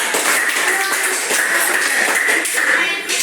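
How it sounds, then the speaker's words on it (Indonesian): A classroom audience claps for a student group after a question-and-answer round in a school lesson, a dense, steady patter of hands lasting a few seconds with faint voices underneath. "Tepuk tangan buat kelompok 3."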